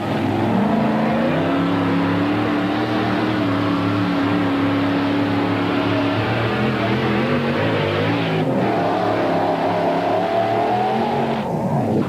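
A 1993 NTPA 1800 mini modified pulling tractor roars at a steady high pitch during a tractor pull in Scribner, Nebraska, then rises in revs as it powers down the track, loud and continuous with no talk.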